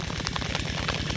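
Steady rain pattering on a flooded rice paddy under overcast skies during transplanting, a dense continuous wash of drops with no voices.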